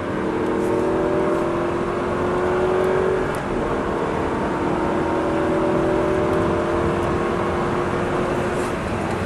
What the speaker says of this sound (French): tu peux accélérer franchement